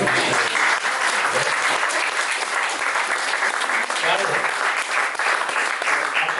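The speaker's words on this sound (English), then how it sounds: "We're in the round of applause, I think." A sustained round of applause from an audience at a debate, dense loud clapping holding steady from start to finish.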